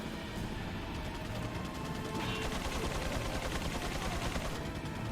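Sustained rapid gunfire from enemy turrets in Resident Evil 4, dense and continuous with overlapping shots and impacts, loud throughout.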